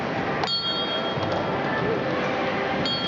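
A train bell is rung by pulling its cord, giving a few separate metallic clangs spaced a second or more apart over constant background noise.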